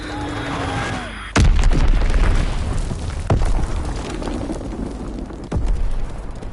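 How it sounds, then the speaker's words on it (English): Bombs bursting in the Call of Duty WW2 beta, three heavy booming blasts about two seconds apart, the first loudest, each trailing into a rumbling roar, preceded by a softer stretch with faint voices. "Enemy bomb incoming. Get to cover."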